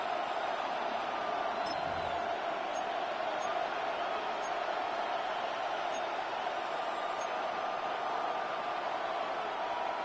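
Football stadium crowd cheering at a big third-down play, a steady, dense roar of distant voices held at an even level throughout, no distinct peaks.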